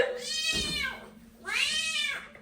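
A person imitates a cat, giving two drawn-out, rising-and-falling meows close by, with a short pause between them, during a night out at a club.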